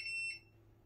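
A short, high electronic beep sounds twice in quick succession as an Ortur Laser Master 3 laser engraver powers up, then stops, leaving a faint low hum.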